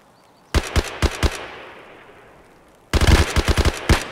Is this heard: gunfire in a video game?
yes